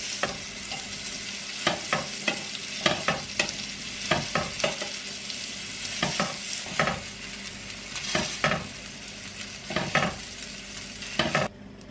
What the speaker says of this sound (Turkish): önce sucukları şöyle iki çeviriyorum